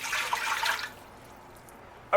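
Three cups of water pour into a larger pan while making Turkish delight, a short splashing stream lasting under a second, then quiet, with a small clink at the end.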